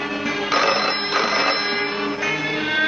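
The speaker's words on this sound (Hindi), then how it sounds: "टेलीफोन की घंटी बजी" Telephone ringing steadily, a continuous electronic ring repeating in pulses, clear and close with no talking.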